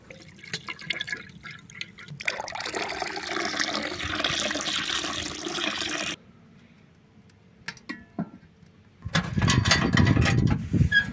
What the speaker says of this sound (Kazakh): Шикі сүтті сүзіп, қазанға құямыз.